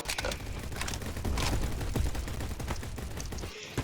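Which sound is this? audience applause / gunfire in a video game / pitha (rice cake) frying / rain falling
gunfire in a video game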